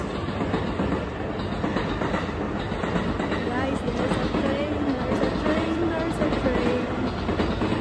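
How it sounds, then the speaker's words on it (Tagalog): A train rolls past on railway tracks near a park, a steady, fairly close rumble with faint rhythmic clatter, heard over outdoor ambience while people talk. "May train, there's a train in there."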